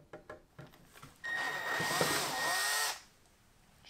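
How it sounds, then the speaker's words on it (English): Power drill whirring hard for under two seconds during woodworking on a carved pendant light, after a few light taps and knocks, then cutting off abruptly. "don't use a power drill"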